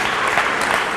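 A short burst of dense crowd clapping from a conference keynote audience, an even rush of many hands filling the whole second.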